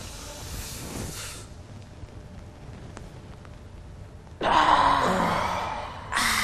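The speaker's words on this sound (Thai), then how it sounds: "จะขั้นที่หนึ่งใหม่ หายใจเต็มที่" Long, slow breath hisses during a seated breathing exercise, a steady airy exhale followed by a louder, fuller breath near the microphone, with no talking.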